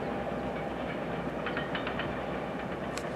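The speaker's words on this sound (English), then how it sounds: "Oh, that's a big train." A big train passes near a river house, a low steady rumble with faint clicking of wheels over rail joints, moderately distant and unbroken by voices.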